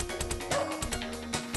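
A dog in the video game Shadow Dancer barks in a few quick, faint yips over steady game music and effects.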